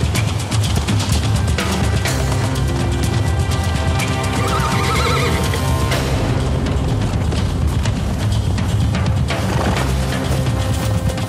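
Wild stallions fighting in the open, loud shrill neighs and squeals over a dense, continuous rumble of thudding hooves and scuffling, with a dramatic, busy mix throughout.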